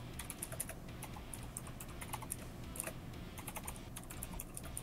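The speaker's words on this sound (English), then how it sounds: "Why is Jano just typing?" Fast, light typing on a computer keyboard during a game livestream, with steady close clicks and clacks that go on without a pause over a low background hum.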